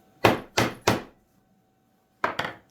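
Five sharp knocks tap a trim part into place over a back block during small exterior repair work, in two bursts: three evenly spaced raps, a pause, then two quick raps close together, nearby and with no talking.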